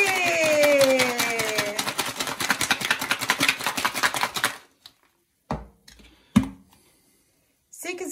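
Ice and lime rattling hard inside a closed cocktail shaker with a mixing blade while a caipirinha is shaken, a dense rapid clatter for several seconds that stops abruptly, followed by a few sparse knocks and handling sounds.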